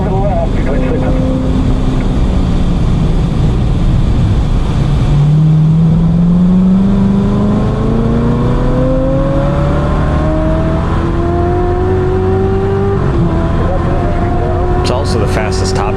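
A 2019 Chevrolet Corvette ZR1 charges down a track straightaway, its loud engine note climbing steadily in pitch through the gears amid heavy wind and road roar.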